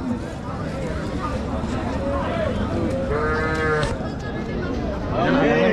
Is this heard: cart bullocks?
yes